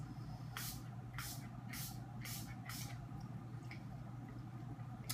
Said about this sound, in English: But I have my setting spray, it's the L'Oreal one.